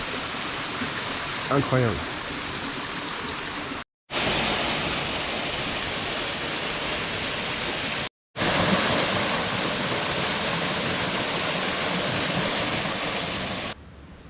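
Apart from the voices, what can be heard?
waterfall on São Miguel island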